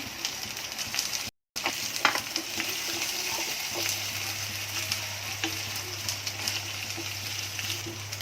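Diced potatoes frying in oil in a pan for a spiced green bean sabzi, a steady close sizzle with crackling pops and a low hum underneath, no voices.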